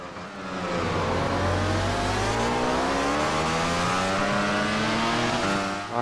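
A MotoGP racing motorcycle engine in the game MotoGP 15 revs loud and close, its pitch climbing and dropping through gear changes for several seconds.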